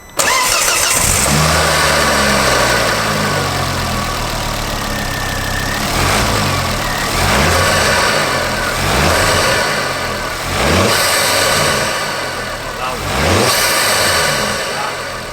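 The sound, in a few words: turbocharged car accelerating at full throttle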